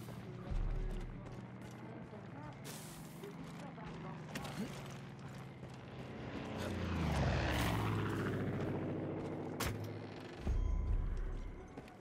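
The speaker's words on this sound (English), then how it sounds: "Plane in here somewhere." A propeller airplane engine in the Far Cry video game drones steadily, then swells louder and nearer through the middle before easing off, with a voice talking over it.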